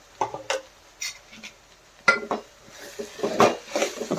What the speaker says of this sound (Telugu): ఒకసారి కలుపుకొని మూత పెట్టుకుందాం.